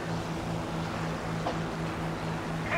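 Steady droning piston engine of a P-51 aircraft in the War Thunder combat flight game, a continuous loud hum with a low buzzing tone and no pauses.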